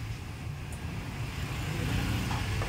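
Yamaha Aerox 220cc scooter with a racing JVT exhaust pipe runs close by, its engine burbling steadily and loudly with a slight rise in the final second, alone without voices.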